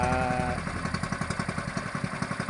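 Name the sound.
boat engine warming up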